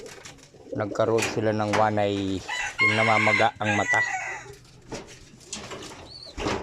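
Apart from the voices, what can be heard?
pigeons cooing in their loft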